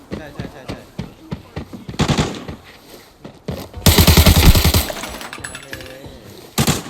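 Bursts of automatic gunfire in the video game Arena Breakout, several rapid rattling volleys with a heavy loud stretch near the middle, mixed with Thai players talking.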